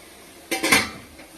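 Metal clinks and clatters as an idli steamer comes off a stove: a short cluster of bright pot-and-lid knocks, a few close hits in quick succession, then fading, with no talk.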